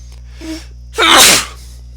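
A person sneezes once, loud and close, preceded by a short sharp inhale, against a low steady hum of a room.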